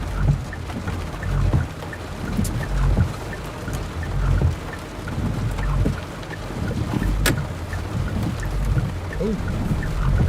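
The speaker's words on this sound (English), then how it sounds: "A loud clap of thunder." Rumbling thunder during a Texoma storm-chasing run, low booms and rolls spread across the stretch under steady rain-like noise and cabin rumble from a moving vehicle, no talk.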